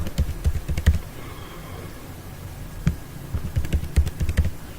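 Keys on a computer keyboard clack in short bursts, a quick cluster of taps, a pause, then another run of keystrokes, close and clear with no talking.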